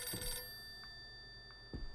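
A telephone ringing on a wall inside a house in the horror game Visage, heard as a faint electronic bell tone in short repeated rings over a steady hum, alone.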